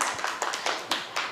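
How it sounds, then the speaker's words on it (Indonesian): A small audience claps at a teachers' training dissemination session on positive school culture; a few scattered, fairly faint hand claps sound in an uneven rhythm over about a second, with no talk. "Terima kasih sekali Mas Fahri, luar biasa, beri tepuk tangan Mas Fahri."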